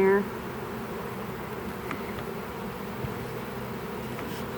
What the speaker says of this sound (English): there's a bee on the phone